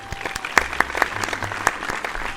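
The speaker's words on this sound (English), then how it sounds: "let's give them a big round of applause" Scattered applause for the band at a spring temple music festival, separate sharp claps rising out of a thin crowd patter rather than a full ovation.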